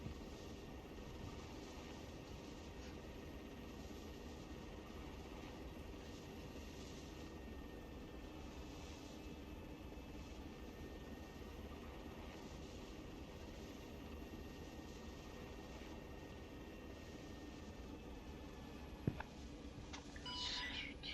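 Aircraft flying over wind turbines in the ArmA III military game, a steady low engine drone holding throughout at moderate distance, with a brief sharp click near the end.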